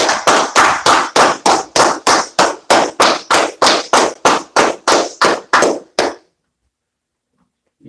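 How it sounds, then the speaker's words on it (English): An audience claps for a minister at a gathering, the applause coming as a regular, rhythmic series of about twenty loud, sharp unified claps, then stopping abruptly into near silence. "let's give Brother Minister Alonzo X a round of applause"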